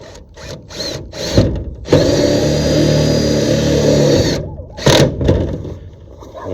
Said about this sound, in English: I'm going to go every other until I know I have enough self-tapping screws to get the job done